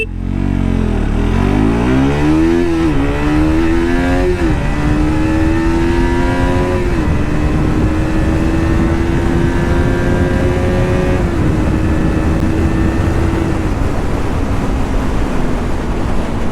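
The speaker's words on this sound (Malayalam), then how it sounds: "കണ്ടോ വണ്ടി 0 to 100 പെട്ടെന്ന് കയറുന്നുണ്ട്" A KTM RC200 motorcycle accelerates hard from standstill toward 100 km/h, its engine note rising sharply through several quick gear changes, then holding a steady high drone over loud wind rush.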